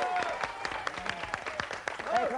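Studio audience applause as a French television show opens with its theme, crisp clapping from a moderate crowd mixed with other sounds, steady across the moment.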